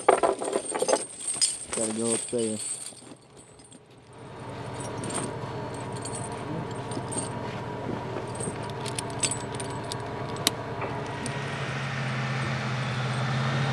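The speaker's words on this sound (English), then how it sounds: "Throwing chains on now." Metal snow chains rattle and clink at close range as they go onto a truck's tires in snowy Wyoming, with a steady idling engine hum underneath and a person speaking briefly.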